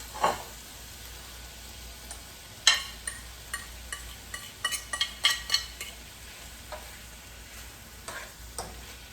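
Chicken fajita meat and vegetables sizzle in a pan under a low steady hiss, punctuated by scattered sharp clinks and scrapes of a utensil stirring against the pan.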